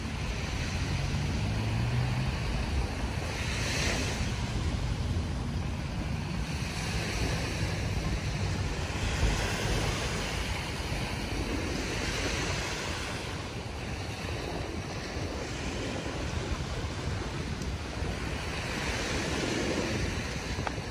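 Surf washes steadily onto the shore at Dolomite Beach, a continuous broad rush of waves mixed with wind buffeting the microphone, with no voices heard.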